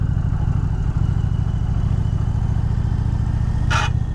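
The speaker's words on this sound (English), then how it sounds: "these big V-twin motors like this just sound mean" An Indian Challenger Dark Horse bagger's big V-twin engine runs steadily at a loud, throbbing idle-to-cruise pulse, with a brief sharp scraping noise near the end.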